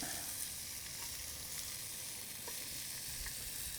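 Steaks sizzling in a hot pan just after being flipped, a steady bright hiss and crackle of frying fat with a few small pops, close and unbroken.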